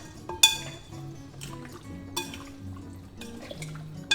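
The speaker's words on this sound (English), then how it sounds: "Then we're going to stir it." Chicken stew being stirred in a pot, a spoon scraping and clinking against the metal in irregular strokes over a wet, bubbling simmer, close by.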